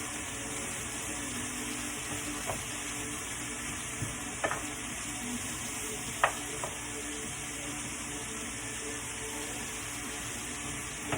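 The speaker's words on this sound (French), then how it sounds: "On fait cuire à peu près 5 à 7 minutes jusqu'à ce que le chou soit tendre" Shredded cabbage for an egg roll bowl fries in a pan, giving a steady low sizzle throughout, with a few faint utensil clicks and taps scattered over it.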